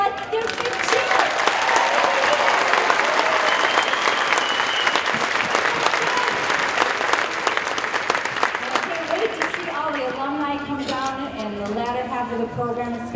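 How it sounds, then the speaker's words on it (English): Crowd at a Norwegian heritage afternoon festival claps and cheers in a loud, dense burst that gradually thins, with voices talking over the tail end as the applause fades. "Let's give a big cheer."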